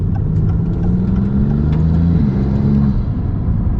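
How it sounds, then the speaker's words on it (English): A Maserati MC20 turbo engine pulls hard under acceleration in manual mode, giving a steady, loud, close-up rumbling drone whose pitch rises and then settles, with faint turbo whooshes over it. "the turbo noises you get with this are really fun"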